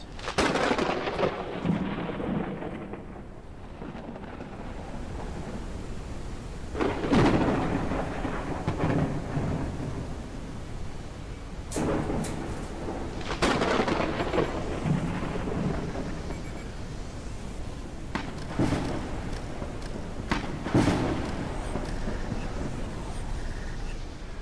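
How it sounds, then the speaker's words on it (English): A loud thunderstorm in a video game, with heavy rain hissing steadily and several booming thunder claps rolling in roughly every few seconds. "this storm's loud."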